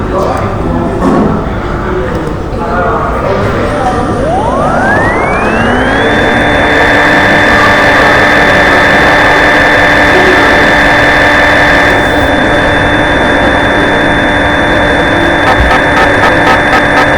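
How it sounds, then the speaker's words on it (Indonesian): A CNC machine spins up over a few seconds into a steady high-pitched whine with a low mechanical hum, running loud and continuous. "setelah itu kita mulai menjalankan mesin"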